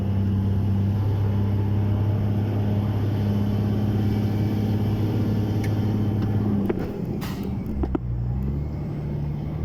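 A car climbs a very narrow mountain road in Bulgaria, its engine a loud steady low drone close by that shifts and rumbles near the end as the gear or load changes.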